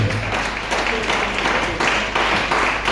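A church congregation applauds, a steady dense wash of clapping from many hands that fills the whole moment, fairly loud and continuous.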